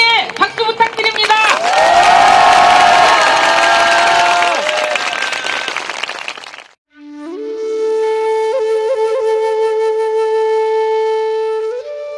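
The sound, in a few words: audience applause for Lee Yong-soo at Wednesday rally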